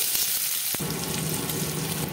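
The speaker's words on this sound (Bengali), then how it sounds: "কড়াইতে দেবো সাদা তেল, আলুটাকে একটু লালচে করে ভেজে নেব" Boiled potatoes fry in white oil in a wok, giving a steady, loud sizzle that flares sharply about a third of the way in and then holds as a dense crackling hiss.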